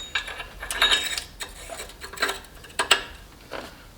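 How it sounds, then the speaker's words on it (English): An O2 sensor socket on a ratchet works loose the oxygen sensor during a catted downpipe install on a Type R. The metallic clicks and ratcheting come close and irregular, with small clinks of tools in between. "And now we need to move the O2 sensor with the O2 sensor socket."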